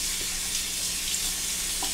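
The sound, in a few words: water from a tap wetting a Shave Nation face cloth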